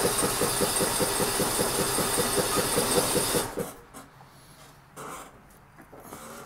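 A car engine with the choke on runs at a rough, pulsing idle for a few seconds, then cuts out, leaving quiet with a couple of faint knocks.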